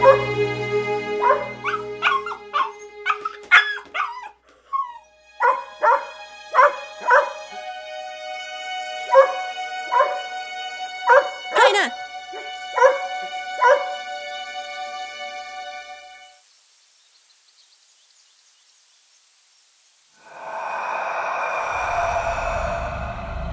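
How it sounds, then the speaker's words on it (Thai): A dog barks in a quick series of sharp yips and barks, close and loud, then falls quiet, with a brief rush of other noise near the end. "นี่แกเห่าอะไรนะ"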